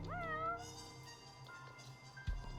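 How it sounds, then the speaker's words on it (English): A cat in the video game Judgment gives a clear, close meow with a rising then falling pitch, followed by a shorter second call and a soft thump near the end. "Oh, look, a cat."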